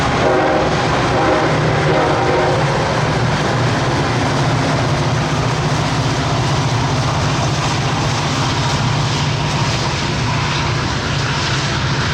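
Freight trains, a westbound intermodal meeting an eastbound manifest, rumble past continuously, loud and close, with a steady low engine drone and grinding rail noise throughout, on Union Pacific's Evanston Subdivision in Utah.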